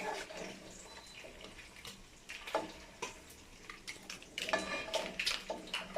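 Hot water being poured over poblano chiles in a kitchen to soften them, a faint irregular splashing and trickling with uneven bursts growing a bit busier toward the end.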